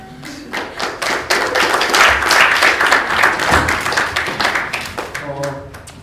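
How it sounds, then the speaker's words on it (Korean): An audience at a church group presentation for Reformation Sunday claps loudly and continuously, dense and close, with a few sharp taps and thumps. A voice speaks over the end as the applause fades. "큰 박수로 응원해 주십시오."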